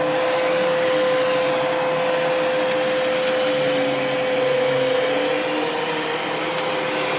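A Kenmore Progressive canister vacuum cleaner runs on carpet with its brush working, a loud, close, steady motor whine and airflow roar that holds even throughout, with no talking.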